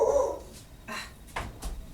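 A few short dog barks or yips, muffled and somewhat distant, spaced unevenly over a couple of seconds, as dogs bark out a window at passing dogs.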